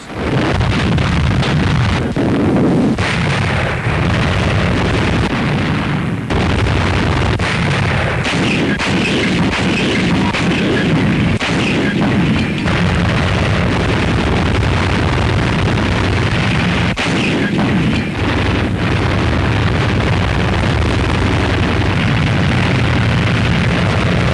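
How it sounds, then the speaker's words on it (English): Loud, continuous barrage of heavy naval gunfire from an American task force attacking bases in the Marianas in 1944, booming explosions and rapid thuds and blasts overlapping throughout with no pause. "being destroyed by the gunfire of an American task force"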